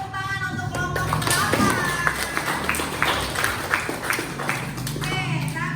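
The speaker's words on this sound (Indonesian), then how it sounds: "Berikan tepuk tangan untuk kelompok 8." A classroom of students claps for a group's presentation during a civics lesson, a steady patter of many hands with people talking over it.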